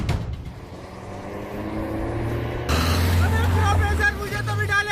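A car pulls away, its engine swelling to a louder, steady rumble partway through, with voices and other busy sound layered over it.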